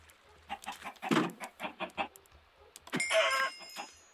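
Minecraft chickens cluck in a quick run of short, moderately loud bursts, then let out one longer squawk after a brief pause, with no talking.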